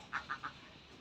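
Three quick, nasal duck quacks sound close together near the start on a small farm kept with quails, then fade into a faint background hush.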